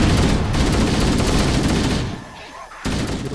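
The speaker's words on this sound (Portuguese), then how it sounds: "Tiro pra todo lado." Rapid gunfire crackles in bursts in Halo: Combat Evolved on Xbox One, a dense, loud stream of shots that briefly drops away before resuming.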